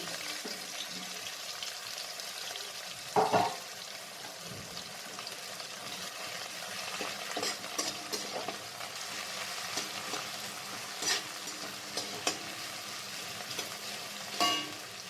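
Chopped onions frying in a pan, a steady quiet sizzle with occasional louder stirring scrapes and clacks.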